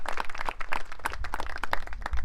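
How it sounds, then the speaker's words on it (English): Graduation ceremony audience clapping, a steady patter of many hands at moderate loudness with a low rumble beneath. "so please give her a round of applause"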